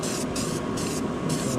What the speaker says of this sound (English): Fixing to spray primer on it.